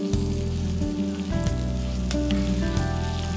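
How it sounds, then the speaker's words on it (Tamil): Masala of tomato purée with coriander powder, chilli powder and salt for a drumstick curry roasting in hot oil, giving a loud, steady close-up sizzle and crackle that runs without a break, with a voice heard faintly now and then. "மசாலா ஆயிலில் ரோஸ்ட் ஆகும், ரோஸ்ட் ஆகும்."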